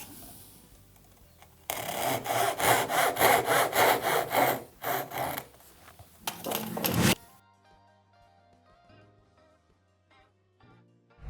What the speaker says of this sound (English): One last cut, and that tenon is ready to go.